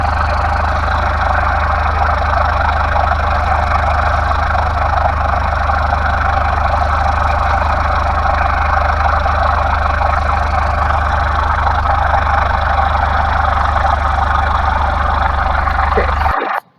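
An aircraft engine in a flight simulator game idles at low RPM while taxiing at Fairbanks International, a loud, steady droning rumble that runs unbroken for over fifteen seconds before cutting off abruptly.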